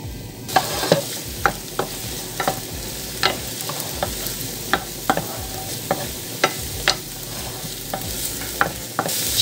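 Sliced onion fries in a pan with a little olive oil. A steady sizzle runs underneath as a spatula taps and scrapes in regular strokes, close and fairly loud.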